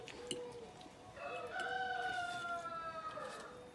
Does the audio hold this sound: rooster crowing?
yes